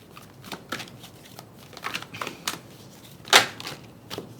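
Tarot cards are shuffled by hand in a series of quick riffling bursts and soft taps, close and crisp, with one louder flurry near the end.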